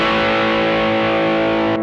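Distorted electric guitar through a TC Electronic Nova Drive pedal combining Rat-style distortion and Tube Screamer-style overdrive, a loud, sustained chord ringing steadily and then cut off abruptly near the end.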